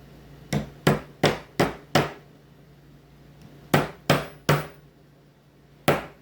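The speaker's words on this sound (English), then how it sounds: "I start them with a hammer." Sharp metallic hammer taps seating guitar frets into a fretboard, a quick run of five strikes followed by a pause, then three more and a final single blow, close and crisp.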